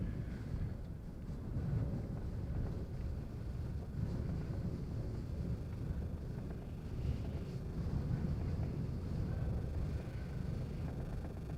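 Steady low rumbling wind and rain battering a parked van in the Faroe Islands, with a continuous dense roar and occasional heavier gusts throughout, no voices.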